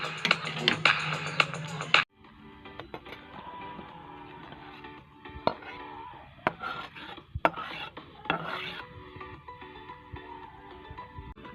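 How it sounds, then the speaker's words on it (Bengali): A spoon stirring Rui fish roe sour curry in a pan, starting with a sizzling scrape and then settling into scattered metallic clinks and scrapes against the pan. "একবার নেড়ে নেব।"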